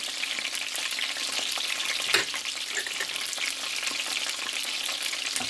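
Rice noodles for an Asian salad with sesame and white pepper are tossed and stirred in a bowl, producing a continuous soft, crackly hiss with a slightly louder rustle midway and no speech.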